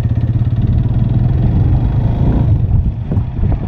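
A Suzuki GS 150 motorcycle rides at around 25 km/h, its engine humming steadily with a pulsing low drone, close and loud, with wind rush and no talking.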